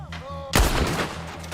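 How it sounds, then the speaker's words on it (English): Gunfire in the video game Battlefield V: one loud, sharp shot bursts out mid-clip and rings on, with rhythmic game sounds pulsing quietly before and after. "where's that other gunfire coming from?"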